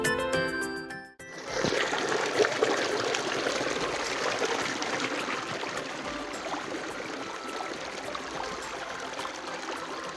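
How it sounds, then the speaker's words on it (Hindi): Spring water flows and trickles steadily in a village in the hills of Azad Kashmir, a close, continuous splashing stream that follows a brief scrape at the start. "यहाँ पे पानी भी मौजूद है, बड़ा खूबसूरत पानी यहाँ पे पीने के लिए"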